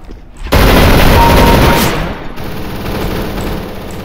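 An M249 machine gun fires in CS:GO. A dense, loud, continuous burst starts abruptly and runs close for about two seconds, then gives way to lighter follow-up game noise. No one talks.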